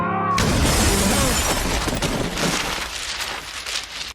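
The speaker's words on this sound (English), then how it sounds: "Daniel, you still gotta move because there's more glass above your head, Daniel." Glass shatters in a TV drama scene: a sudden loud crash bursts out, then a long spray of falling, tinkling shards gradually thins out.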